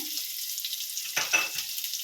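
Ginger, garlic, capsicum and onion frying in a pan, a soft steady sizzle with a brief burst of scraping and stirring in the middle, quiet and close, no voices.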